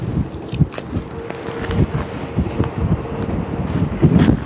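Strong wind buffets the microphone in gusty rumbling bursts, with faint background noise and no talking.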